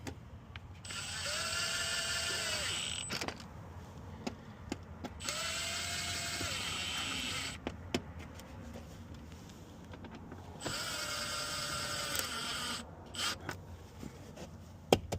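A ratchet tightens small bolts on a truck during electrical wiring work, producing three long, loud buzzing, whirring stretches of a few seconds each, separated by clicks and handling noise.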